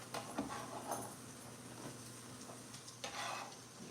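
Mushrooms sauté in a hot pan over medium-high heat, giving a soft, steady sizzle with a few scraping stirs of a utensil against the pan; fairly quiet and close, with no talking.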